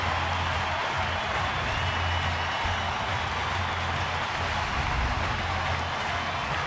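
Crowd at a San Francisco baseball game against Arizona roars in a steady, dense wash of cheering and applause that lasts throughout, with a low hum underneath.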